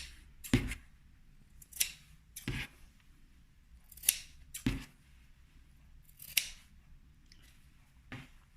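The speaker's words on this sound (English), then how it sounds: "So now we're going to cut our corners off." Scissors snip off the fabric corners of a sewn pencil case with about seven crisp, close cuts spaced irregularly and separated by quiet pauses.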